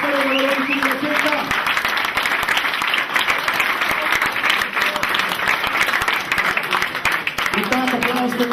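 A crowd applauds at the awards ceremony of the first Veronika's run race in Kamnik, 2009. The clapping is loud and sustained, with a voice speaking over the start and the end.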